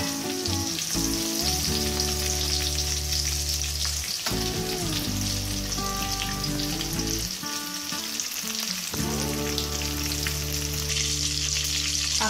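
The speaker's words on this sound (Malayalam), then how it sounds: "അപ്പോ ഇത് ഫ്രൈ ആയിട്ടുണ്ട്." Food frying in hot oil in a pan, a steady loud sizzle running throughout with no one speaking over it.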